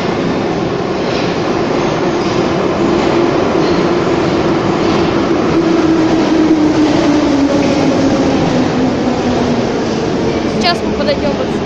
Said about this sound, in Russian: Там поезд прибывает.